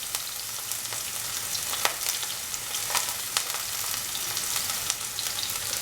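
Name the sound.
onions, garlic and ginger frying in a pan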